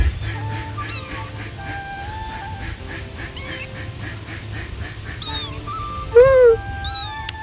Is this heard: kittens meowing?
yes